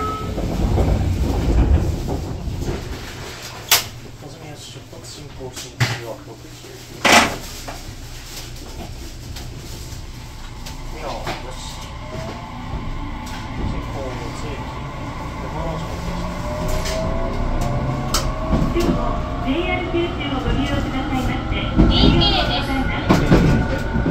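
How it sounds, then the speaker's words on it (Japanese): A JR Kyushu train bound for Kagoshima-Chuo via Ijuin pulls out of a station in northern Kyushu, with a low rumble and rising motor whine building steadily, plus clacks and rattles. Station noise and faint voices sit underneath. "まもなく発車いたします"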